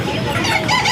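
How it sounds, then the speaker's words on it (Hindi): A rooster in a busy bird shop gives a brief, loud, close cluck amid dense surrounding chatter of other birds. "अच्छा ये मुर्गा है"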